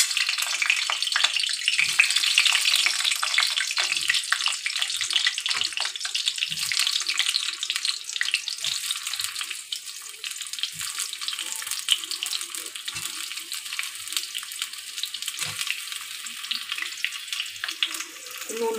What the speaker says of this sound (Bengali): এবার আমি পটলগুলো একটা একটা করে ভেজে নেব।